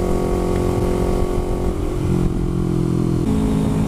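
A Yamaha YZF-R3 motorcycle fitted with a DG exhaust revs loudly and close, its engine note holding a steady, throaty drone that shifts pitch slightly as the throttle varies, with no talk.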